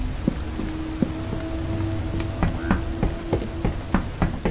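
Rain falls in the horror video game Fears To Fathom, a steady close patter with scattered heavier drips and a faint tonal hum underneath, with no voices.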